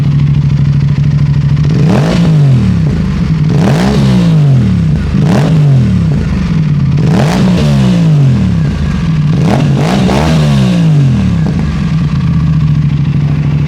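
An Aprilia RS 457 fitted with a GPR titanium full-system exhaust and no dB killer sits close up, a loud deep idle broken by about six sharp revs that sweep up and settle back.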